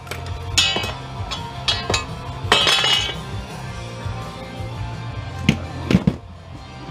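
Scrap cast aluminum pieces from a vintage 3.5-inch floppy drive being dismantled: bright metallic clinks and knocks, several sharp taps in quick clusters, close by, over a low steady background hum.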